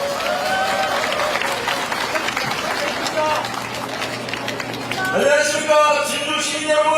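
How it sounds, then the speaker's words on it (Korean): Crowd at an outdoor presidential campaign rally in Jinju breaks into applause and cheering, a loud, busy wash of claps and voices that swells near the end, with amplified sound ringing over it. "큰 박수로 맞아주시면 감사하겠습니다"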